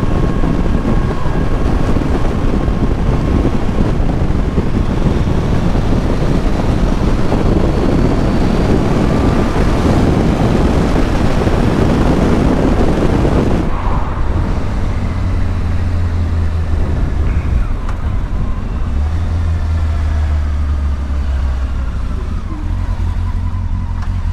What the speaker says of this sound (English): Oh, that engine, just so smooth.